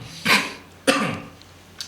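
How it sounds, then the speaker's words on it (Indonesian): Two throaty coughs, close and loud, spaced about half a second apart, from a person on a talk show set, followed by a faint short click. "Agak batuk."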